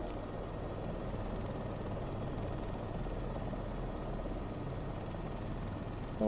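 Helicopter flight in Microsoft Flight Simulator 2024 on a trip to Whistler, a steady, dense rotor and engine drone that holds evenly throughout with no talk.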